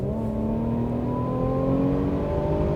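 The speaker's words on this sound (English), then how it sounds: "now let's put the car into sports mode" A 2021 Mercedes E350 4Matic engine accelerates in sports mode with a smooth, steady, rising drone, heard from inside the cabin at a moderate, constant level during a night drive.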